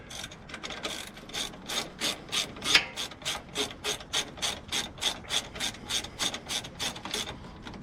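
A hand ratchet tightens a 13 mm bolt on the starter of a 2003 Dodge Ram Hemi, giving a close, crisp run of evenly paced clicking strokes, roughly three per second, with no talk.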